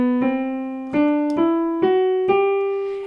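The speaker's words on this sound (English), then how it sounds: "the G Ionian mode itself sounds like this" A piano plays the G Ionian mode as a rising scale, single notes struck one after another at an even pace, each ringing clearly and sustaining into the next, with no voices.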